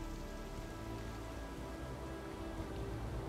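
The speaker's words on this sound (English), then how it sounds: "The autumn rains have arrived" Steady autumn rain falls in a wild forest, a dense, even hiss of drops striking surfaces that holds constant and fairly loud throughout, with no voices.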